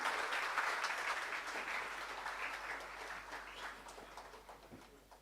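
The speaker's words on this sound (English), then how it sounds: "Audience, please give a huge round of applause." A large conference audience claps, a dense, fairly distant wash of applause that starts full and gradually thins and fades over several seconds.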